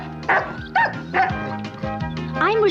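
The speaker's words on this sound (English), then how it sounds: "Have you by any chance seen a puppy running around here, Benny?" A cartoon puppy yapping in an animated show, several quick high-pitched barks and yips in a lively run, close and clear.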